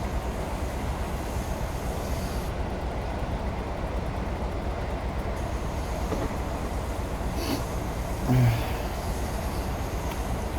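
Continuous low rumble of a Class 67 diesel locomotive in Train Simulator 2019 on the Spean Bridge to Fort William line, steady and mid-distance, with a few faint clanks and a brief thump late on.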